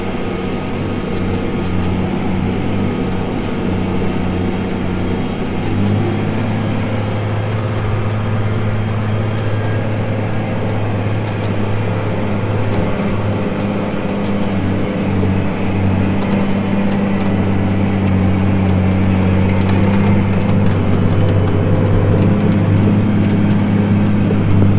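A farm tractor engine drones steadily while pulling tillage equipment, a loud continuous low rumble with a constant mechanical hum and no breaks, close by, with no talking.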